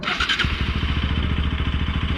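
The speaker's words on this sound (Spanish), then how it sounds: "Y ahora vamos a prender la motocicleta." A motorcycle engine cranks and catches, then settles into a steady, close, rhythmic idle with a continuous low putter.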